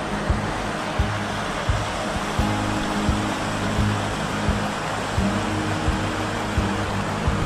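The Ticino River flows beside a forest campsite, a steady broadband rush of moving water heard close and continuous, with faint low thumps underneath and no talk.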